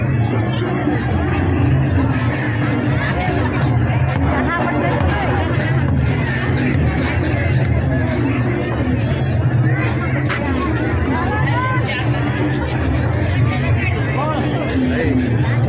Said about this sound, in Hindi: इस साइड भी अभी आप सभी को दिखाते हैं कि और कितना ज़्यादा भीड़ है